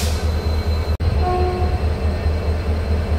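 A train rumbles steadily at Visakhapatnam railway station at night, a continuous low roar of rolling wagons with a brief faint horn-like tone partway through, heard close and loud with no talking.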